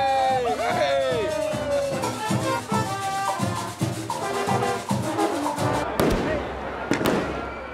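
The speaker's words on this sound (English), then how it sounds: "there's fireworks, literally in the street." Fireworks burst in a town street in El Salvador during a festival with face-painted teams, a rapid loud series of pops and crackles with whistling rises, under excited crowd noise and talking.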